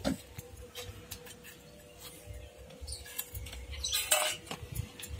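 A kadai goes onto a stove and dried red chillies drop in with soft metallic clinks and light clatter, all quiet and close, with a few small taps spread through.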